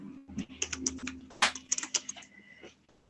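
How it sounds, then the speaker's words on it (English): Typing on a computer keyboard, a close run of irregular clicking keystrokes with a brief louder burst in the middle and a low background hum, no voices. "typing away looking for meat names"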